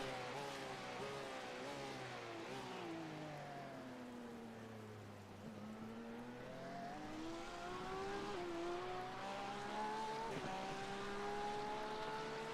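Race car engine in iRacing at Sebring during a 12-hour endurance race: a continuous engine drone rising and falling in pitch as the car shifts and accelerates, steady and fairly prominent with no talk.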